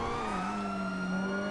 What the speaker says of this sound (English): All right, these sirens starting to get on my nerves, Jack.